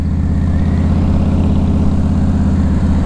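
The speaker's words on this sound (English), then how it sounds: "The exhaust is loud, but it's tasteful." A Harley-Davidson Softail Custom motorcycle idles close by, its loud exhaust giving a deep, steady, lumpy rumble with an even pulse that holds throughout.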